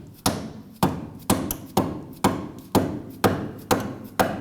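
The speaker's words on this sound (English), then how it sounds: "I'm going to have to bonk it with the mallet." A mallet strikes a rear upper control arm bolt on a 2008-2011 Ford Focus suspension, eight sharp metallic blows at a steady, even rhythm, each close and loud with a short ringing decay, no talk.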